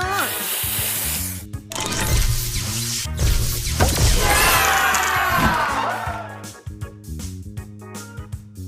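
In a match-3 game, a spray booster effect hisses and shatters over a bright, crackling burst, mixed with looping game music and chimes, with an announcer voice at times.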